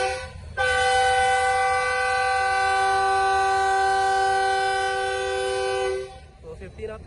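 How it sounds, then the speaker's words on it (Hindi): A long, steady diesel horn from the Karachi Express as it departs Karachi City railway station, sounding loud and continuous for several seconds before cutting off, with faint station noise after. "अब कराची एक्सप्रेस GO40 नवेसी पर 9 के साथ रवाना हो रही है कराची सिटी रेलवे स्टेशन से"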